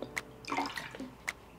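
Small splashes and drips of 9% vinegar poured into a small bowl, brief and quiet liquid trickles with a few distinct drops.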